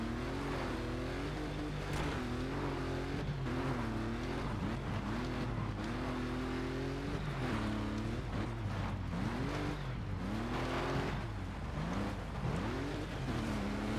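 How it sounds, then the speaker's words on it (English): A rally car's engine revs hard while it drifts in Colin McRae Dirt 2, the pitch climbing and dropping in repeated surges with gear changes, loud and continuous with no voices. "Little bit of drifting action."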